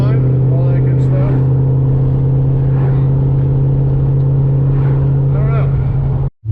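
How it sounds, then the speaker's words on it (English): A cammed Shelby GT500 idles and rumbles steadily under a faint supercharger whine. It is loud and nearby, and the sound cuts out abruptly near the end. "Still hear the supercharger whine"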